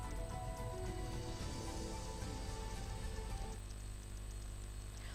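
Heavy rain falls steadily across a Gujarat area, a dense, continuous hiss of drops hitting surfaces that stays loud throughout with no voices.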